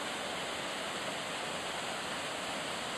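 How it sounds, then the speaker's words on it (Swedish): Forsakar waterfall in Skåne, a drop of roughly 15 to 20 metres, pours as a steady, loud, broadband roar of falling water with no breaks. "Och här är vi nu vid Forsakar, ett av Skånes få vattenfall."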